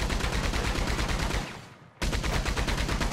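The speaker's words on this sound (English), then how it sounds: "when you shoot the machine gun" Rapid, continuous machine gun fire in the Red Dead Redemption Online game, loud and dense, briefly dropping out near the two-second mark before resuming at full force.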